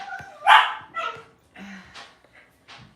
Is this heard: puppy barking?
yes